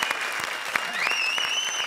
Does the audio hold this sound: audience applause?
yes